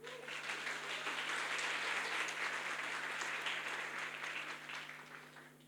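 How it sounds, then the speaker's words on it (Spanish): Steady, broad applause from a church congregation in Cochabamba, Bolivia, swelling and holding before tapering off, without speech over it. "Denle un aplauso."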